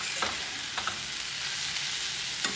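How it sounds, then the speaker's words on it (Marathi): Peanut, onion, garlic and chilli mixture frying in a pan, a steady soft sizzle with a few light scrapes of stirring, close and fairly quiet, no voices. "अशा प्रकारे छानपैकी आपल्याला हा खरपूस असा परतून घ्यायचा आहे"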